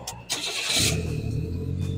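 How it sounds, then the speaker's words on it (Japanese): A Suzuki Wagon R MH22S FT-S Limited with a 60-horsepower turbo engine cranks briefly, fires up, then settles into a steady, close idle. "エンジンをかけると、"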